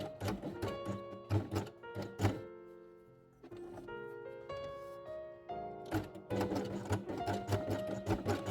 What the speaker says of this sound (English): Take pink apple and sew it also around the hole.